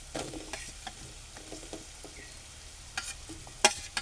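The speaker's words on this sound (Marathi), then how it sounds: "आता मी ही बटाटा आणि शिमला मिरची टाकत आहे." Potato and capsicum pieces sizzle in a hot pan, with soft scraping stirs and a few sharp clinks of the spoon against the pan, all at low volume in a quiet kitchen.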